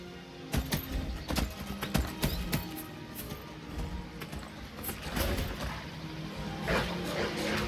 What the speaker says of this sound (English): we're just going to keep galloping.